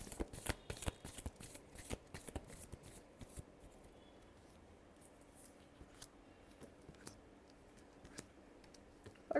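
Tarot cards are shuffled by hand in quick, crisp riffling flutters at close range, loud at first and then settling into softer sporadic card handling, faint and without talk.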